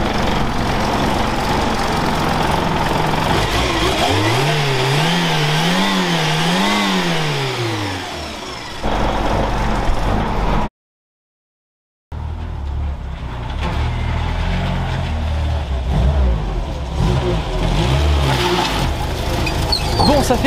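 A Renault 4L with a swapped-in Zenith 32 carburetor runs as a loud, close engine whose pitch rises and falls through several revving swells. A brief gap cuts the sound, and then the steady running resumes with rough mechanical noise.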